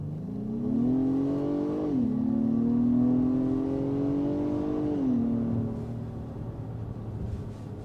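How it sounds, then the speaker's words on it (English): A 2022 Acura MDX SUV accelerating hard in Sport mode, engine drone rising steadily in pitch, dropping briefly at a gear shift, climbing again and then settling, heard from inside the cabin with no talking. "Let's do a quick power test into Drive Sport."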